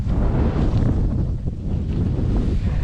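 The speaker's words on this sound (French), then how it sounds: "comme on peut le voir, il y a énormément de vent" Strong wind buffets the microphone beside a canal during a roach fishing outing, a loud, constant roaring rush that swells and dips slightly, with no voices.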